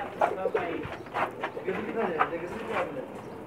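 Pigeons on a rooftop loft in Jeddah, Saudi Arabia, coo in soft repeated bursts close by, with people talking over and between the calls.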